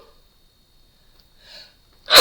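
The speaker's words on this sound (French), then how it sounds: "Ça y est, je vais éternuer." A single loud sneeze bursts out at the very end after near silence and a faint breath, close and abrupt.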